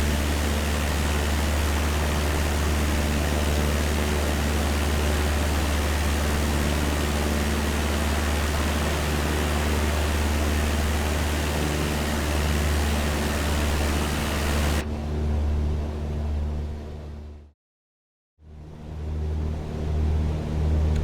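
Steady loud engine drone and airflow rumble inside an aircraft landing at Denver in Microsoft Flight Simulator 2020, continuous and even, then abruptly quieter and briefly cutting to silence before resuming.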